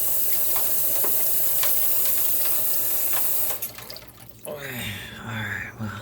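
Water running from a tap into an ice bath tub, a steady loud rushing pour that shifts to a splashier, burbling fill partway through, close and alone.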